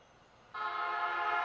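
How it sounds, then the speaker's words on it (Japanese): A train horn sounds abruptly after a quiet moment and holds as a steady, loud tone as a 15-car rapid train bound for Katsuta arrives at platform 1 of Kita-Senju station. "まもなく1番線に快速勝田行きが参ります。"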